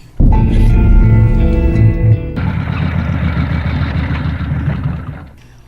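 A motorcycle engine runs with a steady, rumbling idle, loud and close, continuing for several seconds before fading slightly at the end.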